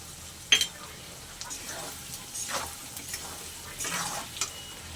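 Potatoes stir-fry with chili and coriander powder, a spatula scraping the pan in irregular strokes over a soft sizzle, close and moderately quiet.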